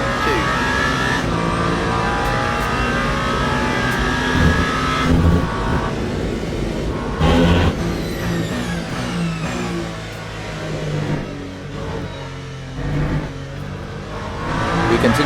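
A Toyota number 8 race car engine in the Le Mans Ultimate 24 Hours of Le Mans game drones loudly on board, continuous with revs rising and dropping through gear changes.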